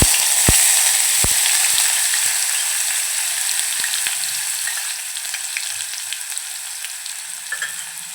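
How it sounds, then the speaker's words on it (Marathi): Chopped onions sauté in hot oil for chicken curry, a bright, continuous sizzle that slowly softens, with a couple of sharp clicks early on, close and fairly loud with no voices. "कांदा हलकासा लालसर होईपर्यंत आपल्याला परतवून घ्यायचा आहे"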